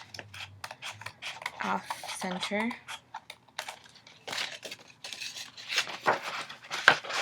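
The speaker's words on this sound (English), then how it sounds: "I'm just going to trim the edges here so" Scissors trim the edges of origami paper for a holiday gift box, giving a run of small crisp snips and paper rustles mixed with close talking.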